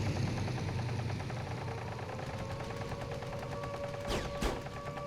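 Enemy plane machine-gun fire in IL-2 Sturmovik (2001) rattles in rapid bursts over the steady drone of an aircraft engine, near the end of the stretch.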